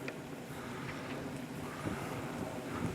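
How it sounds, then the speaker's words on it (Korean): Steady outdoor wind on a golf course, a broad continuous rushing and buffeting against the microphone that holds at an even, fairly loud level throughout, with no talking. "뒷바람이 불고 있습니다."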